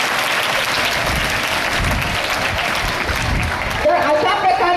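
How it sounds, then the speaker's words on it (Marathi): Audience applause at a 15 August school flag hoisting ceremony, a steady full round of clapping throughout that swells slightly near the end. "त्यांच्यासाठी आपण टाळ्या वाजवूया"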